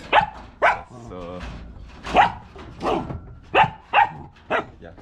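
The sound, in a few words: dogs barking near the kennel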